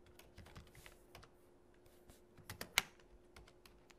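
Typing on a computer keyboard while writing C# code: quiet, scattered key clicks in an irregular rhythm, closely miked, with one sharper keystroke near the end and no speech.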